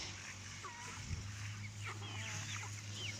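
Several chickens, including broilers and a young laying hen, cluck and make short warbling calls over a constant low hum, moderately close.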